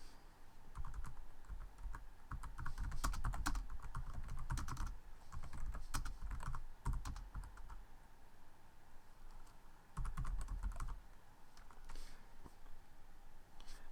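Steady typing on a computer keyboard, close and fairly loud, with dense bursts of key clicks that pause briefly and resume, no voice over it.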